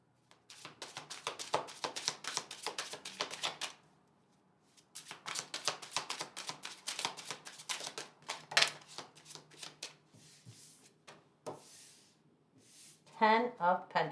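Repeated bursts of crisp tarot card shuffling, riffling flutters in several rounds with brief pauses, close and fairly quiet, with a short voice near the end.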